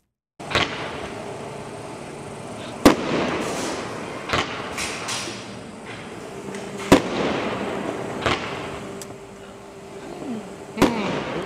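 Phantom Fireworks display firework bursting in a series of sharp, loud pops and bangs roughly every couple of seconds, each with a crackling tail over a steady background rumble.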